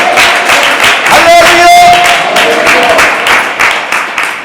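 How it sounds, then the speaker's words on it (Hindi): A church congregation claps hands in praise, a steady rhythmic patter of many hands running throughout, with a voice speaking over the clapping. "ताली बजाकर परमेश्वर की महिमा करो।"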